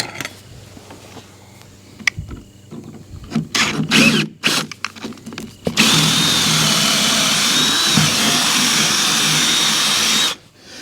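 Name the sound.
power drill drilling holes through wood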